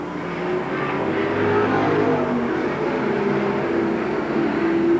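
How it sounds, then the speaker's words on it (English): Pro Stock race cars roar around Seekonk Speedway in a 1992 heat race, a continuous droning engine rumble with shifting pitch as the field passes, steady and fairly loud with no voices. "With 2 laps to go, Tripp is coming on Estelle."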